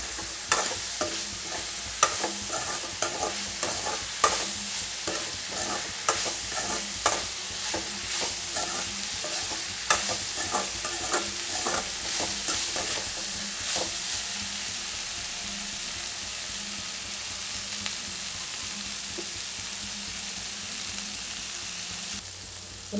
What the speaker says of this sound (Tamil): நல்லா வதக்கி விடலாம்.